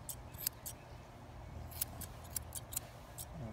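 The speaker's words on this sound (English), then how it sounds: "you want to scissor with this part of your scissors" Scissors snipping fur on an adult Samoyed's foot, several quick, faint metallic clicks scattered at an uneven pace, close up over quiet room noise with no talk.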